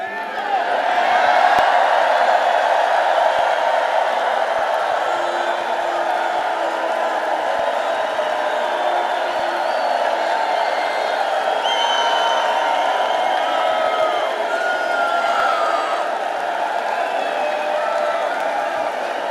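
A huge indoor arena crowd of many thousands at a Donald Trump rally in Duluth, Minnesota keeps up a steady, dense roar of cheering and applause for nearly twenty seconds, evenly loud throughout.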